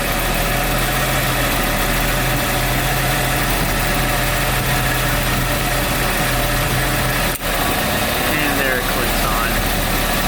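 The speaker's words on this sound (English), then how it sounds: "You notice the engine RPM dropped, but just a tiny bit." A classic car engine idles with its AC compressor off, a steady low hum and vibration, broken by a brief slight RPM dip partway through, then continues evenly.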